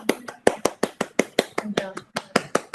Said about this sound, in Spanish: podemos abrir los micrófonos, si quieren, para darle un aplauso a Johnny y a Anita